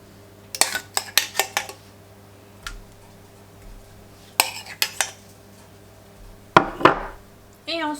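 A spoon scrapes and taps against a dish while spreading sauce over turkey escalopes for a parmigiana bake, making several bright clinks in short clusters, close and clear, with a faint hum underneath and no talking.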